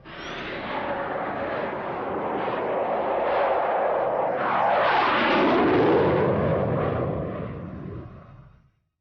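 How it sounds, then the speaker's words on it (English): Two F-16 fighter jets of the Belgian Air Force fly past, a loud roar that swells, sweeps in pitch as they pass overhead and then fades out. "the Belgian Air Force were able to scramble 2 F-16 fighters to intercept the unidentified intruder"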